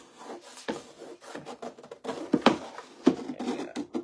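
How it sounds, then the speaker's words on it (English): A hand scraper rasps chalk paint off a surface in a series of short, close strokes, a gritty rhythmic scratching with brief gaps between passes. "Get the right angle of my scraper."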